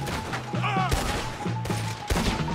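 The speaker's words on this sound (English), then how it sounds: "Who is shooting at me?" Several rapid gunshots crack out during a Red Dead Redemption 2 shootout, sharp reports in quick succession over background game sounds and a musical tone.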